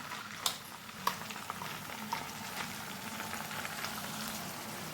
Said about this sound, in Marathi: आता आपण जी खोबरं, कांदा, लसूण, अद्रक, हिरवी मिरचीची पेस्ट बनवली होती ती आपण यात तेलामध्ये घालत आहोत